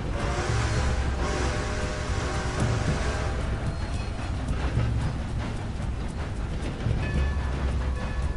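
A train in Red Dead Redemption 2 rumbles past continuously with steady low clatter and rolling noise, loud and close, with no talking.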